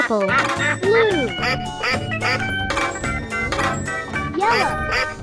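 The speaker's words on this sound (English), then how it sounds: "Duck." A duck quacks repeatedly in short, close bursts as a sound effect in an animal-sound guessing game, set against busy background music with a high jingling layer.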